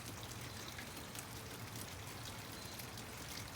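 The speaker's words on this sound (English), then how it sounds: "Can you hear the raindrops?" A spring sun shower sends a steady, close wash of raindrops pattering and splashing, constant throughout with no talking.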